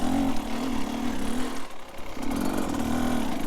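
A Beta Xtrainer dirt bike engine lugs and bogs at low RPM, a loud, close, uneven chug with a brief dip in the middle before the labored drone picks back up.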